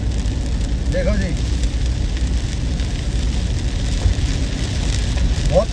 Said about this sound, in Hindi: बहुत तेज बारिश है, बहुत तेज